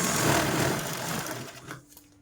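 A sewing machine stitches a zip onto a bag in a short, steady whirring run that slows and stops near the end.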